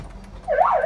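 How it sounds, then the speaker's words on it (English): Alarm from the panic button of an armored 2009 Mercedes G500 starts up: a warbling siren tone rising and falling in pitch, loud and close, cut short after under a second. "closes doors and windows and screams at everybody with very loud alarm"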